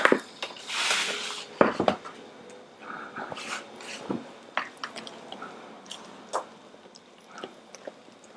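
Chocolate for a molten lava cake being mixed in a bowl, heard as wet squishing and scraping with soft irregular clinks of a utensil, close and fairly steady throughout.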